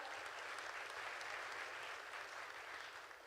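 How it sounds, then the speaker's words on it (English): A graduation ceremony crowd at a Ugandan university applauds its Executive Director, a sustained, even roar of many hands clapping at once, moderately distant and tapering slightly at the end. "A hand of applause for the Executive Director."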